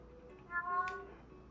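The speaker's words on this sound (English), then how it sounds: "Those are what those meows mean." A hungry cat gives a single drawn-out meow, moderately close and clear, over a faint background hum with no talking.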